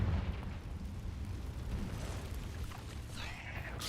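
Rumbling explosive blasts from the Confringo fire spell in the Hogwarts Legacy video game, set deep in a cave, form a dense, continuous boom that stays loud throughout with a brighter crackling burst near the end.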